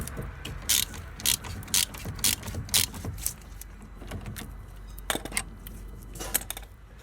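A ratchet clicks while undoing an 8 mm Allen caliper bolt on a 2013 Renault Master 2.3 dCi front brake, sharp close rapid clicking bursts in short strokes separated by brief pauses, with no talking.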